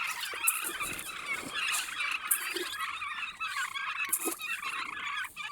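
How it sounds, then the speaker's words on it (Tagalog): A flock of about thirty turkeys gobbles and squawks in overlapping bursts at moderate distance, a continuous busy chorus with sharp calls scattered throughout and no talking. "Mahigit mga 30 din siguro to piraso na pabo."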